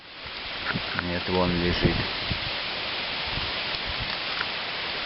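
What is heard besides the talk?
strong wind gusts outdoors by a river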